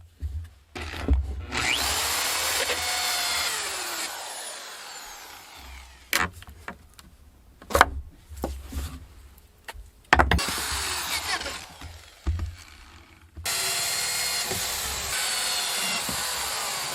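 A power drill bores holes during a bathroom drain rough-in, whirring loudly in several long bursts separated by short pauses and clatter, close up with no talk.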